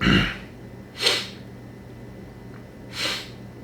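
Three separate sneezes, a strong one at the start, another about a second later and a softer one near the end, each a sharp nasal burst over a quiet steady room hum.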